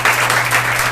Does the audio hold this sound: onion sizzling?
no